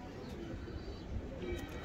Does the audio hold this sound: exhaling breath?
no